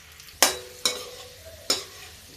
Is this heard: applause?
no